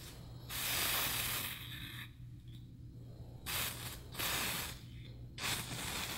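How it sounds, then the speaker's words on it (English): A drugstore powder spray is released from an aerosol can in several close, loud hissing bursts, each lasting about a second or more, separated by short quiet gaps. "I'm going to spray a little bit more just to see."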